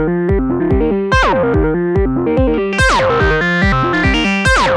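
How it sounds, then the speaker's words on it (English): A gritty saw-wave synth bass through an overdrive pedal plays a bouncy repeating line of plucked notes with bright, buzzy overtones, loud and upfront. "this kind of bass line pretty much begs for a saw wave"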